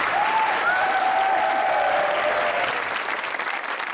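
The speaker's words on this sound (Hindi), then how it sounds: "तालियां बजती रहनी चाहिए।" Steady studio audience applause on a talk show hosted by Tabish Hashmi, dense and continuous, easing slightly toward the end, with a faint tone gliding over the clapping.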